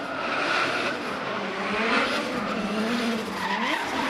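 Drift cars at a D1NZ National Drifting Championship qualifying round at Baypark Stadium, tires skidding and squealing continuously alongside a loud racing engine for several seconds.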